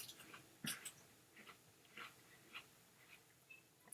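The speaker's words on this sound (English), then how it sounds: "I don't know what Digit's eating right now." A dog chews on something, probably paper, with irregular soft crunches and bites close by, faint and quiet against a low background hiss.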